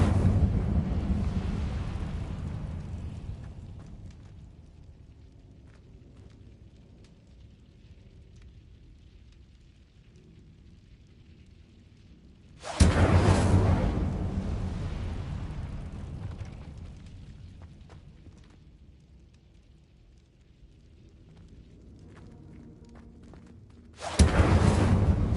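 An Incendio fire spell cast in a Harry Potter video game erupts three times, each a sudden loud roaring burst of flame that slowly fades into a long crackling rumble, widely spaced and with no talk.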